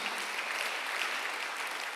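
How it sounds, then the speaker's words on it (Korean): A church congregation claps together in a steady, dense burst of applause during a Sunday worship service, evenly loud and sustained throughout. "박수로 하나 더 주세요."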